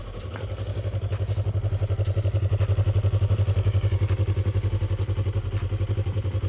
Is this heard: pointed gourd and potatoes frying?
no